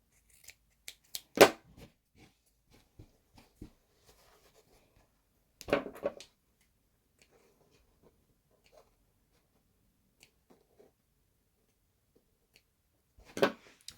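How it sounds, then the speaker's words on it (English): Scissors cutting fabric for a yoga mat bag: a few sharp snips in brief clusters separated by long quiet gaps, close and fairly faint. "cut along there"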